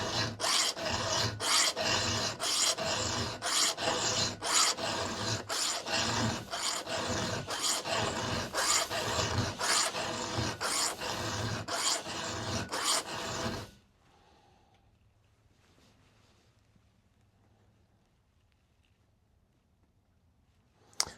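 A file sharpens a chainsaw chain out in the forest, with close, regular rasping strokes for about fourteen seconds before it stops, leaving quiet woodland ambience and a sharp knock at the end.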